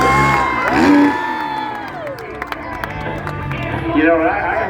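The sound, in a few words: crowd cheering at freestyle motocross contest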